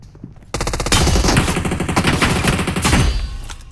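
Rapid automatic gunfire in a mobile shooting video game: after a brief quiet start, loud continuous bursts of shots run for nearly three seconds before tapering off.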